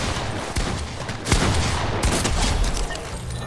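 Gunfire in the video game Fortnite: dense, loud bursts of rapid shots crackle throughout, with a few sharper heavy cracks standing out from the continuous barrage.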